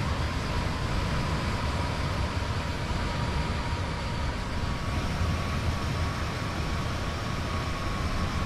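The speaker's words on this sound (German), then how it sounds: "Da kommt ein Zug. Da kommt eine Eurobahn." A Eurobahn train passes in Train Sim World 2, the Hamburg scenario, as a steady, loud rumble of wheels and motor that holds evenly throughout with no voices.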